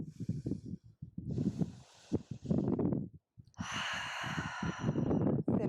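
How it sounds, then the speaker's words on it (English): During a Pilates yoga class, a person draws a deep, audible breath and then lets it out in a long, full, breathy exhale, close and clear. "Let's take a full breath here."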